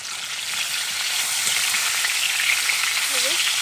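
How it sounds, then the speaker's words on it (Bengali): Fish frying in well-heated oil, a loud, bright, even sizzle holding steady up close with a faint voice briefly underneath. "মাছ উল্টে দিলাম, লাল লাল করে ভেজে নিলাম।"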